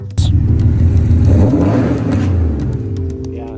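A Porsche 911 Carrera Targa fires up with a sudden starter bark, then a loud idle that swells into a brief rev and settles into a steady, gradually quieter rumble, heard close with no talking.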